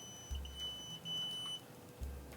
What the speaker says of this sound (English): now it's beeping like it's gonna blow up